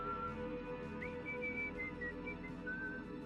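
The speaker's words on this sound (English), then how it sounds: "whistling up through the vents." Eerie whistling drifting up through floor vents from a crawl space under the floorboards, several thin sustained wavering tones, faint and hollow over a low background hum.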